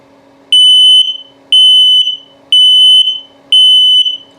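An RV's LP gas and carbon monoxide detector sounding its test alarm: four loud, evenly spaced high-pitched beeps about a second apart, close up, with quiet pauses between them.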